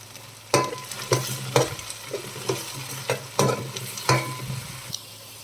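Onions sizzle steadily in a hot pan while a spoon scrapes and stirs in sharp knocks about every half second, close up, with no voices.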